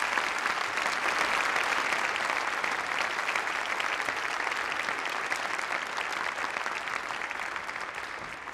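An audience at a university graduation ceremony gives a long, steady round of applause for the graduating class. The clapping stays dense and even and fades slightly toward the end.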